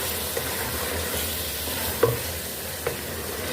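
Half a kilo of chicken being stirred and fried in masala for a bhindi chicken dish, with a continuous close sizzle and a couple of soft scraping stirs.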